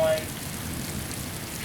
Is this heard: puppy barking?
no